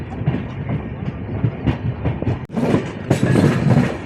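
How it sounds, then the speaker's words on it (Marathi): The Amravati SF Express, train 12111, pulls out of Murtijapur station with a rumbling roll and rhythmic wheel clatter that grows busier and louder toward the end, heard without speech. "मित्रांनो आपण डिपार्ट झालेला आहे मूर्तिजापूर रेल्वे स्टेशनवरून"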